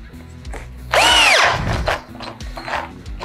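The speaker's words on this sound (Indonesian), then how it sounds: "kita akan coba aja ke mesin bor cordless ya" A large 5/8-inch wood auger bit is driven into wood by a cordless power drill, making one short, loud whining burst of drilling that rises and falls, followed by scraping and chip-clearing noises.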